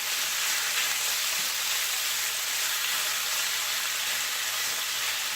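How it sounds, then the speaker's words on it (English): Sirloin steak browns in a hot pan, giving a steady, even sizzle of frying meat that holds at a constant level throughout, with no voices over it. "let me brown that for a couple minutes and then I'm going to add the onions"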